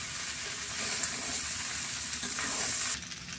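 Rice being stirred with vegetables, turmeric and black pepper in a pan during village cooking, a steady close sizzle with soft scraping of the spoon throughout.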